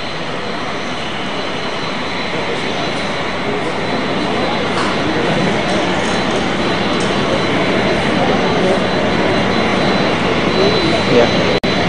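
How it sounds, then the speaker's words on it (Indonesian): A jet airplane arrives from Saudi Arabia at Halim Perdana Kusuma airport, its engines a loud, steady roar that swells slowly, and a broadcaster talks over it throughout. "Ada kedatangan satu pesawat."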